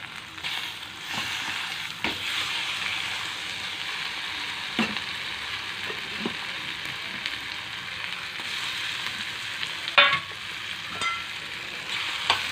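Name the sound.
curry leaves and spices frying in a pan for brinjal curry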